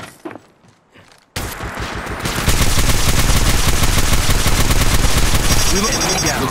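Dense automatic gunfire from a mobile battle royale shooter, Apex Legends Mobile, erupting loudly after a quiet opening and continuing as sustained rapid bursts with game effects layered in.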